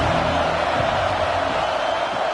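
Steady roar of a big football stadium crowd at an Arkansas game, a dense, continuous wash of cheering and noise with no breaks, heard from within the stands.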